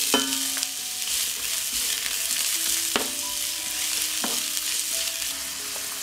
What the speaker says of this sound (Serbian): Ulje se zagrejalo i propržit ću luk.